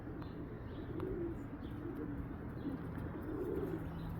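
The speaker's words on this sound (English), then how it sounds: "Pigeon Loft. Got a couple birds out flying." Pigeons coo softly at a pigeon loft, low faint gurgling calls repeating over a quiet outdoor rumble, with no wingbeats clearly heard.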